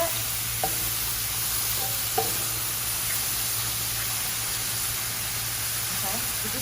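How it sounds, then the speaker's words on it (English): Mushrooms sauté and brown in a hot pan, giving a constant loud sizzle with a few sharp utensil clinks early on, steady and close with no break. "They're sauteing and they're browning right now."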